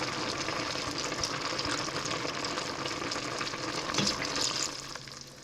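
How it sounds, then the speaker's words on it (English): Dry red wine poured into a hot pan of beef tips, setting off a steady crackling sizzle and bubbling hiss that carries on at moderate volume before easing slightly at the end. "I'm gonna add a 1/2 cup of dry red wine"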